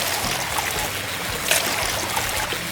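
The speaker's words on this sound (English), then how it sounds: "The pump starts working. Water falls into the buckets." A LEGO pump spilling water into buckets, a steady trickling, splashing stream close by, with one brief louder splash midway.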